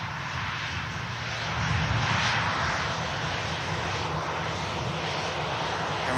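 An Emirates Boeing 777 jet at Manchester Airport gives off a continuous engine roar that swells a little partway through and then stays steady, heard alone without talk.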